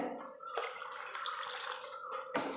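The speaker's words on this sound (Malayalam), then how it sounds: "ഇതിനകത്തേക്ക് ഇച്ചിരി വെള്ളവും കൂടെ ഒഴിച്ച് കൊടുക്കാവേ നമുക്ക്" Water poured into a simmering Kerala-style sardine curry in a pan, a steady splashing pour lasting a couple of seconds, close and moderately loud, with a sharp splash onset and a second splash near the end.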